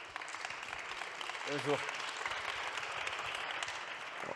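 An audience applauds steadily throughout at a French data-and-innovation masterclass, a broad even wash of clapping, with one short spoken greeting cutting through midway.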